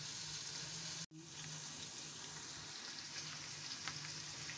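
Chicken stock pieces fry with garam masala and spices in a pot for yakhni pulao, making a steady, fairly quiet sizzle that drops out briefly near the start and then continues evenly, with no voices.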